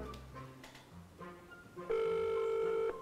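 A telephone ringing tone played over speakerphone during a live call-in in a TV studio; a single long, steady ring stands out clearly after a stretch of low background noise.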